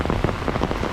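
Rain pours down onto outdoor surfaces as dense, steady pattering with many close drops overlapping, loud and continuous with no voices.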